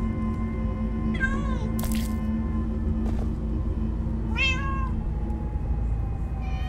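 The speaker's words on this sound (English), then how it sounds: "Oh, many cats. So many cats." Several cats meow in the Minecraft Story Mode video game, with three or four distinct, fairly loud meows spread over a low, steady background hum and no talking.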